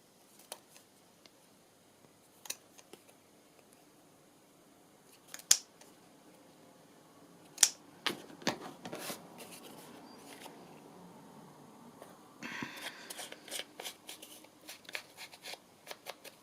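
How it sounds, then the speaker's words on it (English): Scissors snip the corners of a paper bag journal page in a quiet room, a few sharp isolated cuts early, then a quicker cluster of faint snips and rustling paper toward the end. "I think I might just round these corners, or maybe just snip them. Snip the corners."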